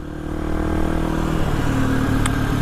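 A motorbike engine idles and rumbles steadily close by as the bike is moved back into storage on a Sunday evening, with a faint clink near the end and no talk.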